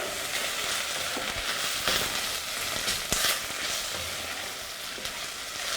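Okra with green chili and salt cooking in a pot, a continuous crackling sizzle close by with occasional sharp pops and stirring clinks, no voices.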